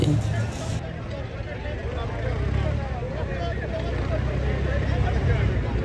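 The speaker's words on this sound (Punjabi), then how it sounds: "ਟਰੈਕਟਰ ਦਾ ਦੂਜਾ ਰਾਉਂਡ ਸਟਾਰਟ ਹੋ ਗਿਆ" An old Ford 3630 tractor engine runs with a steady, loud low rumble that holds throughout, with faint voices mixed beneath it.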